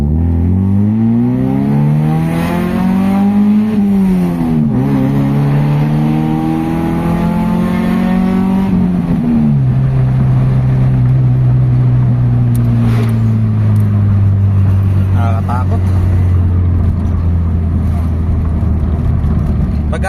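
A Toyota Corolla big-body engine runs and revs during a misfire test, its pitch rising and dipping unevenly before settling into a steady, slightly rough idle drone. It stays loud and close throughout, with faint voices in the background.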